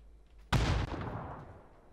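A grenade goes off in a PUBG match: a sudden loud, broadband blast kicks in partway through, after a quiet lead-in, and then rumbles and decays over the following second.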